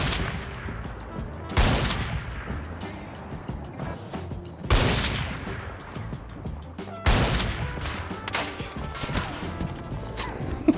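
Gunfire in the shooter game Battlefield 2042: several loud, sharp volleys of rapid automatic fire, each with a ringing, decaying tail, punctuating a few seconds of near, aggressive firefight.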